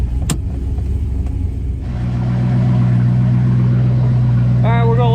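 An old Pontiac Ventura engine idles loudly in a deep, steady rumble that grows fuller partway through, with a voice briefly heard at the end.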